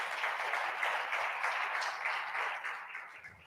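Brief, even applause from the audience for a speaker at a national reconciliation summit, fairly faint and fading out after about three seconds.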